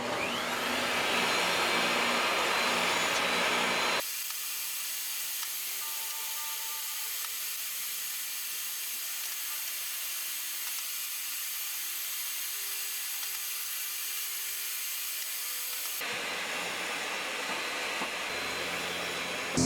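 A table saw cuts closet shelf boards: a loud, rough whir at the start drops to a quieter, steady motor hum with faint tones, then surges loud again near the end.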